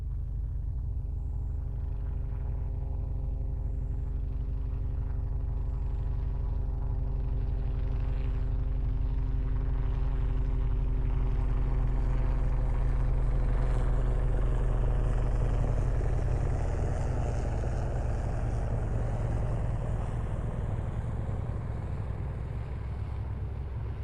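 A Robinson R66 helicopter on a decelerating approach gives a steady, loud rumbling drone with rotor tones, swelling slightly midway and holding on alone without voices.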